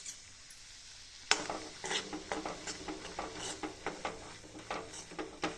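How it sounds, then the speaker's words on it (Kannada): Gram flour roasting in oil in a pan on a gas stove, a utensil scraping and clinking against the pan in steady repeated strokes over a faint sizzle, close and fairly quiet. "ಇದ್ರಾಗ ಕಡಲೆ ಹಿಟ್ಟು ಹುರಿತೀನಿ ಎಣ್ಣೆ ಒಳಗೆ"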